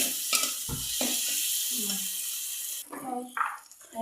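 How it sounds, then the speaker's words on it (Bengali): Garlic frying in a pan, a steady bright sizzle with scraping stir strokes, then a sudden drop and shift partway through with a few clinks, close and moderately loud. "ভেজে যদি না আনি তার গন্ধ পাবে, কাঁচা হবে, তার জন্য ভেজে নিচ্ছি"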